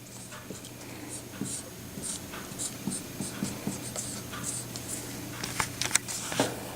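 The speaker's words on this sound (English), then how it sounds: "Let's write out what I have now." Pen scratching out math working on paper, a quiet run of short strokes and taps in uneven rhythm, close up in a hushed room.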